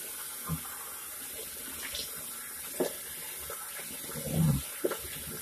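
A bathroom tap runs quietly to rinse during a wet shave with sandalwood products, giving a faint steady trickle broken by a few soft splashes and knocks.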